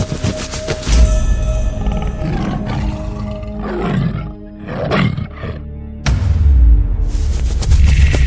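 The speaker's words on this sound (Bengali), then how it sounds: "এটা তো সাদা বাঘ রে। এর সামনে পড়লে আমাদের একজনকেও রক্ষা করবে না।" Loud cartoon white tiger roars come in bursts, a big roar at the start, shorter snarling growls in the middle, then another strong roar, with no talk.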